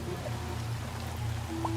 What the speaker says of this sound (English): Look at this, now it's raining.